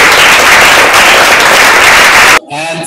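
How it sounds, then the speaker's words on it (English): Loud, sustained applause from an audience thanking three panelists at a women-in-business startup panel discussion in Cyprus. It fills the first two seconds or so, then cuts off abruptly into a quieter, different sound. "Let's give a round of applause to the three panelists."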